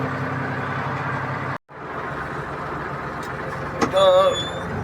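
A truck engine runs steadily and loudly while the vehicle pulls in to load gravel, briefly cutting out, then a short squeal and a voice near the end.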